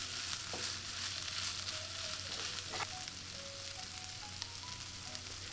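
Sisig with green pepper and chili sizzles steadily in a pan, with a constant crackling fry and a few faint clinks of stirring.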